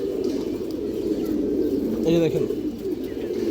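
A female pigeon of a red-geared line coos in a short burst near the middle, close by, while someone talks over it throughout.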